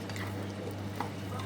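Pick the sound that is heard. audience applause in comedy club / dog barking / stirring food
stirring food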